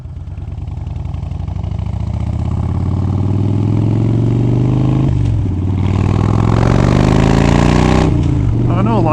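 A Harley-Davidson Dyna Fat Bob's engine rumbles steadily while riding around town, rising in pitch as it accelerates through gears, with wind noise growing stronger near the end.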